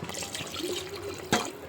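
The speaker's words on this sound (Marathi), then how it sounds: "आपण याच्यामध्ये पाणी टाकून घेऊया." Water is tipped into a pot of cooked mutton curry, a soft splashing trickle with a brief louder slosh near the end, fairly quiet against light kitchen background noise.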